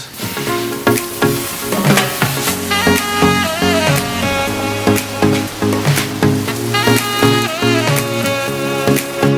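Vegetables and onions with Brussels sprouts cooking on a grill, a continuous loud sizzle and crackle lasting throughout, with music playing over it.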